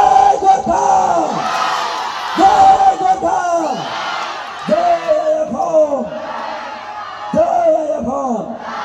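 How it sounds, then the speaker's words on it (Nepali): A festival crowd on a stage event shouting in unison, repeated group chants rising and falling in bursts roughly every two to three seconds, with a hint of applause underneath. "जोरदार तालीले स्वागत गरौँ त"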